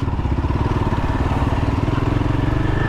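A Yezdi Adventure motorcycle engine runs close by while being ridden, a loud continuous pulsing thrum with an even rapid beat and no pauses.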